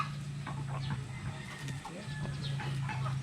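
A chicken gives soft, repeated clucks close by, a few short calls in quick succession over a steady low hum, with no talking.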